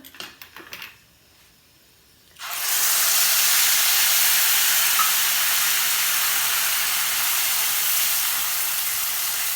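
Onions drop into hot oil already seasoned with dried red chillies and asafoetida, bursting into a loud, steady sizzle that continues without letup after a brief clatter.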